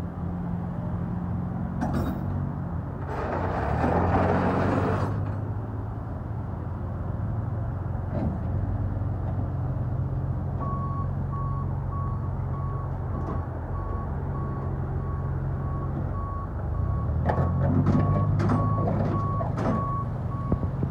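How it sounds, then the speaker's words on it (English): Repeated reversing beeps from a tow truck hauling cars away on Thanksgiving night in Yonkers, a steady pulse over the low rumble of idling trucks, with engine noise swelling near the end. "Two cars getting towed."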